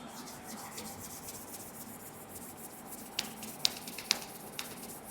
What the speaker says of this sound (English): Rub your palms together.